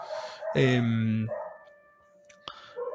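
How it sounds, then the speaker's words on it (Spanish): Several dogs bark and yelp excitedly at close range while fire engines pass outside, with one strong bark burst and sharper yips later, followed by some siren-like tonal sound in the background. "perdonen que están los perros como locos, pero están pasando los bomberos justo"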